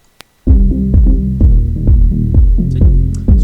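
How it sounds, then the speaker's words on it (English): Low-pass filtered music at 200 Hz leaves only deep bass tones, heavy throbbing pulses in a repeating rhythm, muffled as if heard through a wall, after a brief near-silent start. "if we set it to quite low, let's set it down to 200, we should only hear the bass tones"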